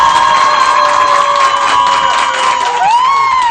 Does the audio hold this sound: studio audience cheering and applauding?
yes